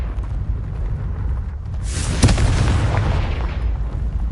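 The Confringo explosion spell goes off in Hogwarts Legacy: a quiet lead-in, then a sudden loud blast with a sharp crack and a rumbling, crackling tail.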